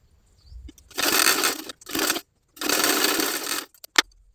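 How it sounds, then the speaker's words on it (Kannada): Sewing machine double stitching a blouse, running in three short bursts of rapid mechanical whirring separated by pauses, close and clear, ending with a single click. "ಇದಕ್ಕೆ ಡಬಲ್ ಸ್ಟಿಚ್ ಮಾಡ್ಕೊಳ್ಬೇಕು."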